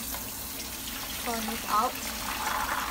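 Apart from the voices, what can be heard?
tap water running while washing red beans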